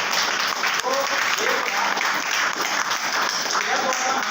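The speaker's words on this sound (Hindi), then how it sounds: "एक बार जोरदार ताली सभी साथी" Loud, sustained applause from an audience at a motivational training session, a dense continuous roar of clapping with a few faint voices mixed in underneath.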